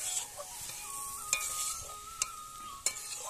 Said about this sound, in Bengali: দেখো মশলার সঙ্গে আমি ভালো করে একটু মিশিয়ে নিয়েছি।